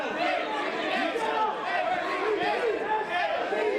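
A wrestling crowd at a Metro Pro Wrestling show chatters and calls out in a continuous, busy roar, with many voices overlapping at a steady moderate level.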